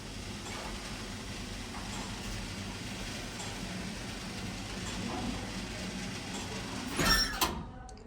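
A vintage Van Emon elevator motor runs steadily in a hotel machine room, a continuous low mechanical drone with a brief louder clank near the end.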